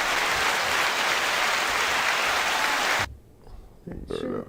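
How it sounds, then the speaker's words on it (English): Enthusiastic applause on a music-talk livestream, a bright, full burst of clapping for about three seconds that stops abruptly, after which a voice begins speaking. "the one and only 9-second applause"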